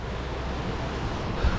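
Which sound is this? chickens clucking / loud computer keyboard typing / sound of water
sound of water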